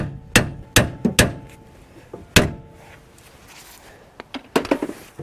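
Hammer blows on the lower ball joint of a 2014–2018 Chevy Silverado, a rapid burst of sharp metallic whacks, then a pause and a few more hits, loud and close in a workshop.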